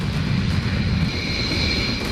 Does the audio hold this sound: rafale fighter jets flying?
yes